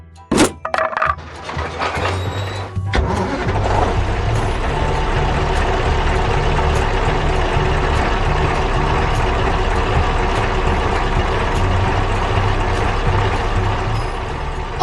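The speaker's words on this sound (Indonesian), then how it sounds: "Truknya mulai melaju kencang." A heavy cartoon truck engine roars steadily and loudly as the truck drives fast in an animated construction scene, following a brief sharp thump at the start.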